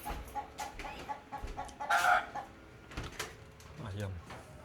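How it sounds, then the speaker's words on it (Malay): A startled chicken clucks in agitated bursts around a home garden, moderately close, with people talking over and between the calls. "Ayam terkejut."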